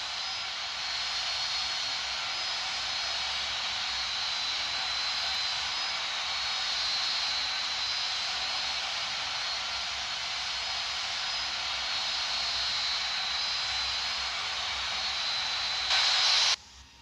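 Steady, loud jet airliner engine roar with broad hiss during a fully configured landing approach in the Infinite Flight simulator game over Canada, continuous and unchanging throughout.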